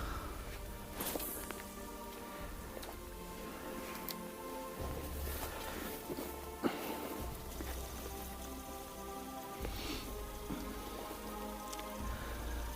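Rain falling at a small river in autumn, a soft continuous patter of drops on water and surfaces, faint and steady throughout, with occasional footsteps nearby.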